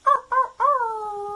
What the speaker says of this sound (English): Ended off with a wolf howl.